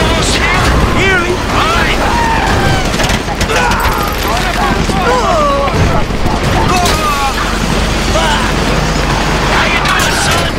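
Rapid bursts of gunfire from a Grand Theft Auto 5 bank-robbery shootout in Paleto Bay crackle loudly and continuously, layered with chaotic game noise while people shout and talk over it.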